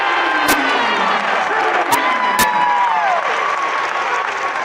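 Wrestling arena crowd at a Big 12 141-pound match cheering and applauding loudly and continuously to urge a stall call, with a few sharp claps and whoops standing out.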